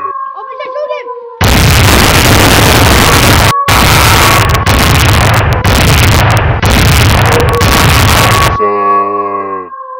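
Loud, continuous bursts of gunfire roar for several seconds with brief gaps, framed by tonal music or sound effects before and after.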